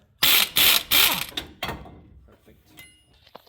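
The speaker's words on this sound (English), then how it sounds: "I have enough room to put a universal socket and put an extension to get this out" Ratchet driving a universal socket on an extension while working on the front suspension of a 2006 Dodge Ram, heard as several quick loud clicking bursts up close, fading to softer metallic clinks.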